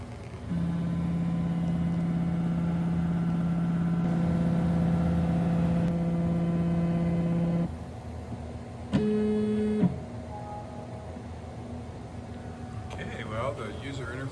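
A CNC router runs its auto zero routine, giving steady motor and machine whine for several seconds, then a short pitched stepper tone as the Z axis moves before the machine falls quieter, heard close up.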